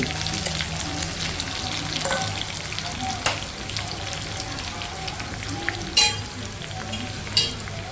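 Mustard seeds, dried chillies and garlic frying in hot oil, a steady close sizzle with occasional sharp pops and crackles.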